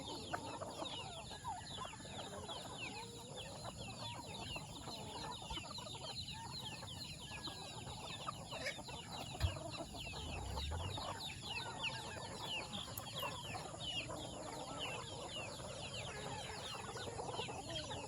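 Free-range chickens and a black rooster cluck softly on a small farm, a faint, scattered chorus of short calls over steady outdoor background noise, with no voices.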